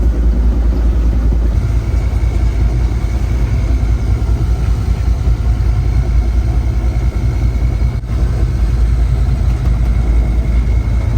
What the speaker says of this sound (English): we'll continue to run the engine if it's less than 10 knots